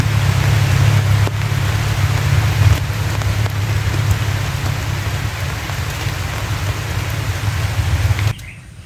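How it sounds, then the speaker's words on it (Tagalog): Steady typhoon rain pours down, a dense, even hiss of drops on surfaces with a low rumble beneath, continuing without a break before cutting off near the end. "Yan na ang ulan na naman"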